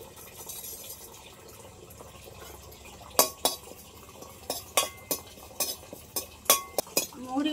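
Fennel seeds dry-roasting in an empty wok, stirred with a spatula: from about three seconds on, a run of sharp, irregular metallic scrapes and clinks rises over a quiet, steady kitchen background.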